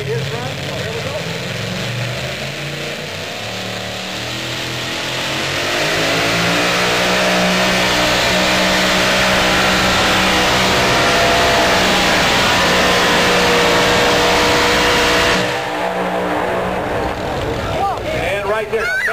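Super modified two-wheel-drive pulling truck with a single blower engine roaring at a Knoxville truck pull, building from a rumble to a sustained loud howl that cuts off abruptly near the end, with crowd noise behind.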